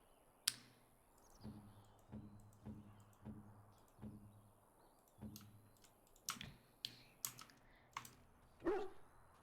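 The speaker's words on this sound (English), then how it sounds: "He bounces around, barking excitedly." A dog in Dragon Age Origins barks excitedly in a quick run of short yips, fairly close, mixed with sharp clicking sounds and a few brighter game effects near the end.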